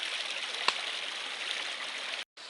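A mountain stream flowing steadily at a water source along the Appalachian Trail, a continuous broadband rushing wash heard close up and alone, with one brief click partway through and a short dropout near the end.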